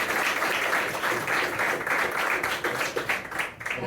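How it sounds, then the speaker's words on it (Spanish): Audience applause for a jellyfish talk at La Casa del Buceo, a steady dense clapping from a roomful of people, close and continuous for the whole stretch with no talk over it. "Entonces, aplausos para Joxmer y comenzamos."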